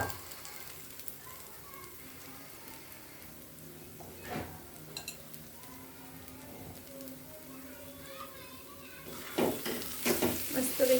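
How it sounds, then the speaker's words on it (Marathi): Paneer bhurji vegetables stir-fried in a pan, giving a soft, steady sizzle under low background noise, with a few scraping stirs that grow busier toward the end. "आता ही आपल्याला भाजी परतून घ्यायची आहे सर्व एकत्र करून"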